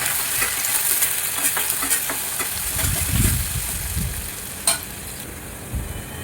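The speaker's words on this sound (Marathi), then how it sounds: "बारीक कांदा कापून घेतला होता तो टाकूया कांदा लाल होईपर्यंत आपण याला थोडं परतून घेऊया" Finely chopped onion fries in a pan with a continuous close sizzle, broken by occasional scraping stirs and a couple of sharp clicks of a spoon against the metal.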